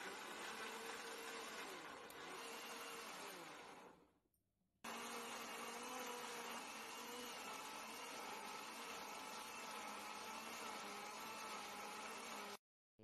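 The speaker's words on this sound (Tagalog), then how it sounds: "At i-blender po natin." Kitchen blender whirring loudly as it purees grated coconut with a splash of water for chutney, a steady dense roar that cuts out briefly partway through, then resumes and runs until an abrupt stop.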